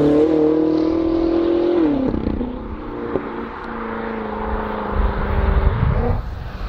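A 700-horsepower BMW M5 F10 drones loudly at close range, holding a steady engine tone before the revs drop, then surging again near the end on a street in Kosovo.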